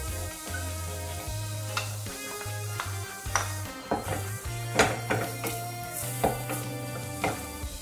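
Onions frying in olive oil in a pan, a soft sizzle with repeated clinks and scrapes of a utensil stirring, a steady low hum running underneath throughout.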